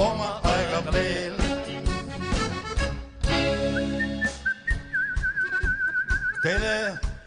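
A man whistles a lively melodic tune live on stage at a concert, clear and close, with sliding warbling notes alongside bright instrumental backing.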